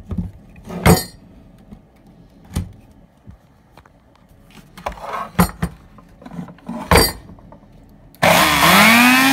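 An old Soviet electric planer of unknown make kicks into a loud, steady running whine near the end, preceded by scattered knocks and handling clatter up close, with no voices.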